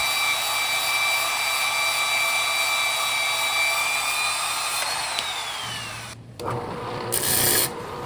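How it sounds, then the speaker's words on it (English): A hacksaw cuts a chunk off a piece of cold rolled steel, a steady loud grinding rasp with a high ringing whine that holds for several seconds, then breaks off abruptly into brief scraping and clatter. "Let's find ourselves a piece of cold rolled steel and saw off a chunk and get started."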